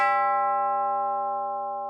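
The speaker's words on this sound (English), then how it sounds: "but the final bell rang" A single final bell rings once in a cartoon story, a bright metallic tone that rings out clearly and fades slowly, with nothing else heard.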